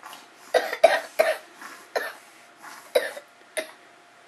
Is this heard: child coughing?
yes